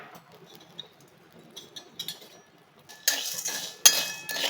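Coarse salt roasting in a dry pan, first as sparse, faint scrapes and clinks, then a louder, denser scraping rattle of grains being moved in the final second and a half, with no talking.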